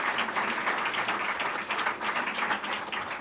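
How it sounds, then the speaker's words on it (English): An audience at an awards ceremony breaks into steady applause, a full wash of many clapping hands at moderate level, sustained without talk. "Round of applause for John."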